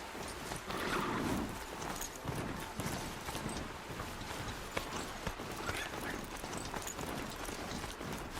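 Horse hooves clip-clop at a steady walking rhythm in the video game Horizon Zero Dawn, close and fairly loud over a soft outdoor ambience, with no talking.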